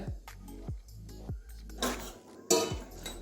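A metal lid comes off a pot of boiled moong dal with chickpea greens, making a few close, sharp clanks and clinks followed by a brighter scraping rattle.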